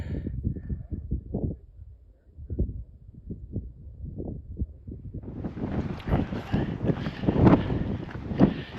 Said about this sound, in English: Now the wind's starting to pick up